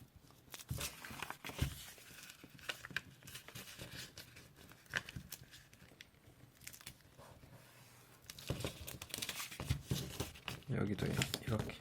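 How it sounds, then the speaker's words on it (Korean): Paper being folded into a paper fighter jet gives soft crinkles, creases and brushing rustles in irregular bursts up close, with a quiet voice talking underneath. "종이 비행기 접듯이 이렇게 접어주세요."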